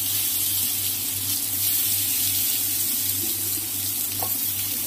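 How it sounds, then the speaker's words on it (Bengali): Cut potato and plantain dropped into a pan of hot oil, sizzling in a constant close hiss, loud and even across the whole stretch, with no voices. "এবার আমি কেটে রাখা আলু আর কলাটা দিয়ে দেবো"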